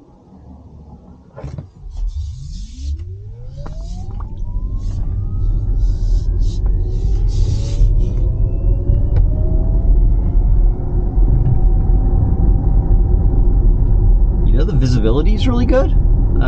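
A 2022 Lucid Air electric car accelerates up to speed with a rising whine and a low, steady road rumble that grows louder, while a person talks inside the cabin.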